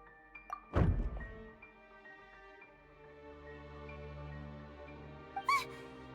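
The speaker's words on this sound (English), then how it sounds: "I seem to have accidentally knocked over a decoration." A decoration knocked over in the Genshin Impact game gives a single heavy thump early on over soft sustained background music, followed later by a brief squeaky chime flourish.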